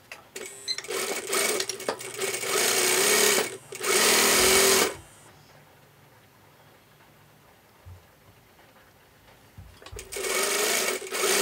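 A sewing machine whirs loudly up close in two bursts, sewing a half-inch seam to attach a yoke to a garment back, then falls quiet before starting again near the end.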